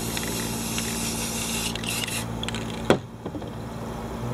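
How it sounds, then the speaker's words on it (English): A continuous hissing spray from an aerosol paint can of yellow paint, steady and close, cutting off abruptly near the end with a few faint clicks after. "Now when I spray this way, so I don't get no overspray to go under."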